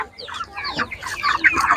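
Broiler chickens cluck close by at a village animal market, a brief run of busy clucks and squawks with a faint crow-like call rising toward the end.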